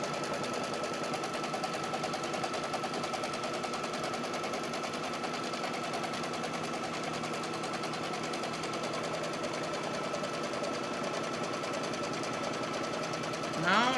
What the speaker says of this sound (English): you see how it just does a single straight stitch